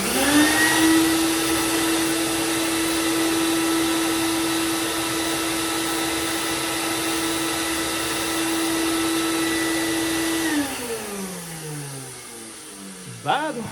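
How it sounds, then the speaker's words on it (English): A dust collection system drones loudly and steadily in a knife sharpening workshop while a knife is thinned and sharpened, then winds down with a falling whine near the end. "I'm gonna turn the dust control on. It'll be noisy, but it's better than me sucking all that stuff in"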